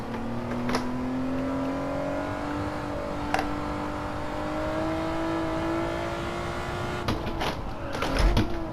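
A car engine in Gran Turismo 7 holds a high, sustained note through a four-wheel drift round a hairpin, with tyre noise and brief clattering bursts near the end.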